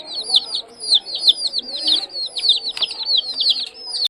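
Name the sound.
pigeons being fed by hand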